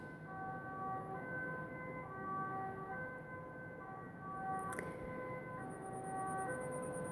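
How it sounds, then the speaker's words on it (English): Sirens wail steadily in the distance, their tones rising and falling in overlapping layers against a low background hum, with no voices. "Do you hear those sirens?"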